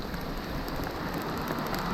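Steady rain falls during a downhill bicycle ride near Bourne, a dense, even hiss of drops and spray running continuously without any talk.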